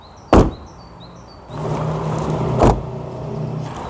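Two solid thuds from an Audi S3's doors shutting, one early and one near the end, each a short heavy knock over a low idling hum.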